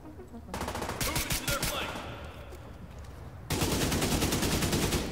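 Rapid bursts of automatic gunfire in The Division 2 video game, dense repeated shots running through the whole stretch and growing louder near the end, with a voice talking briefly under the shooting.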